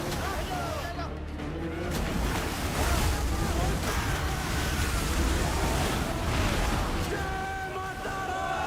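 Slow-moving river water flowing steadily with gusts of wind buffeting the microphone, a continuous broad rush up close, with voices faintly present near the end.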